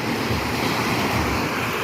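Continuous rushing surf of sea waves on a storm-damaged shore, loud and broadband, mixed with wind buffeting the microphone.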